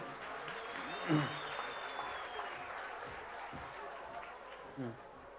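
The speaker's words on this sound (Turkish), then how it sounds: "Bir alkış daha onlar için" Audience applause for middle school students at an Artvin school folk song competition, a steady wash of clapping with voices speaking over it and a couple of louder moments.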